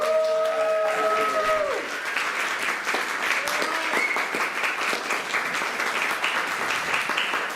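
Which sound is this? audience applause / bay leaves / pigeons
audience applause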